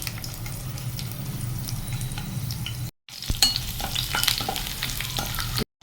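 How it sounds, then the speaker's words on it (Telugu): Garlic and chillies frying in oil for veg manchurian, a continuous close sizzle broken by two brief gaps, with clinking and scraping stirs growing busier in the second half. "ఇప్పుడు నేను దీంట్లో గార్లిక్ను చిల్లీస్ ఫ్రై చేస్తున్నా"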